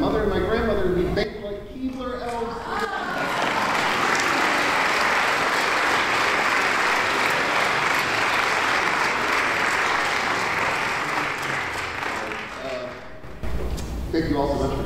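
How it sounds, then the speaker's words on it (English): A crowd claps loudly and steadily at an intimate gathering with homemade baked goods, a broad sustained round of applause with a speaking voice before and after it. "give a round of applause to my mother and my grandmother who baked"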